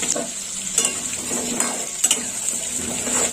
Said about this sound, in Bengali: এবার নেড়ে ফেলে দেবো